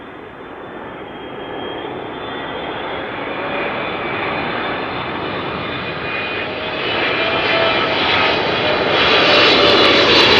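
A 15-year-old Air Canada Boeing 777-300ER jet at Amsterdam Schiphol Airport gives a steady, loud engine roar that builds gradually in strength over the span, with no talking.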